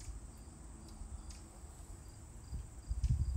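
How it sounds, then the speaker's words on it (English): Cicadas buzz outdoors as a steady, faint, continuous high drone that fills the background, with a low rumble underneath and no voices. "I can hear the cicadas just a little bit."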